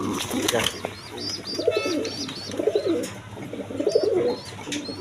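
A pair of Mokkhi pigeons coo in repeated, rolling low calls at close range, with someone talking over them and faint higher chirps in the background.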